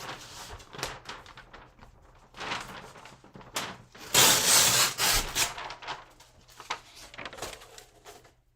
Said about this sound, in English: I'm going to tear off some butcher paper.